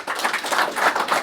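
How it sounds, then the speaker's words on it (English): Applause from a seated audience at a Coffee and Natter presentation in Birmingham: a dense, even patter of many hands clapping, moderately loud and steady throughout, with no voices over it. "A proper round of applause."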